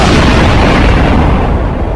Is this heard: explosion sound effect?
yes